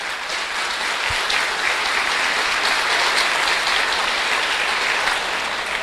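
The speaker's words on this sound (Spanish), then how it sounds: "Un aplauso pues para el hermano." Steady applause from a congregation at a church debate gathering, welcoming a Pentecostal guest; dense, continuous clapping that fills the whole stretch at an even level.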